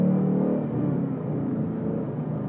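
A 2018 Ford Mustang GT engine idling with a deep, steady rumble, close by and loud, settling slightly lower after a moment.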